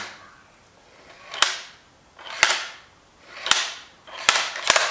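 A Tikka T3X rifle bolt is cycled five times, each stroke a sharp metallic click and slide, spaced roughly a second apart and coming faster toward the end, close and fairly quiet with no talking.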